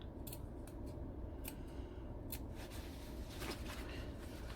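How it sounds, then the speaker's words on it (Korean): Scissors snip notches into the curved seam allowance of a high-neck oversized summer raincoat hood, giving a run of quick, faint cutting clicks over steady background hiss, with no voices. "시접은 어차피 한번 돌아가야 되니까 곡선에 가위밥을 주십니다"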